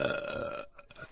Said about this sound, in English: she was burping an awful lot after the eating contest